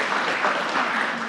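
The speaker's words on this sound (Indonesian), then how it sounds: "kita berikan tepuk tangan yang meriah" A crowd at a political commemoration speech claps in a brief, fairly distant burst of applause that stays steady for about a second.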